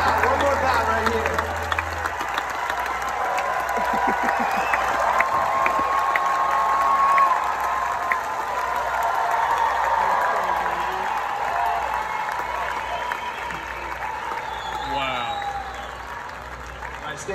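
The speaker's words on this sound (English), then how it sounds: "One more round of applause for my favorite part of the entire tour so far" Concert crowd at a show in San Diego applauds and cheers loudly and continuously, with whistles and shouts rising over the clapping and a voice calling out near the start.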